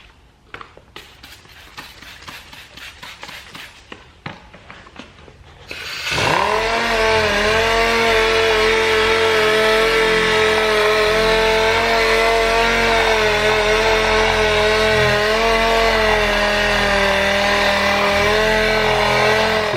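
A power sander on a car's painted panel starts with a rising whir and then runs continuously and loudly, a steady mechanical drone after a few seconds of light clicking.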